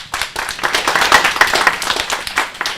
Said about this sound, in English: Hopefully you can hear the applause from your end.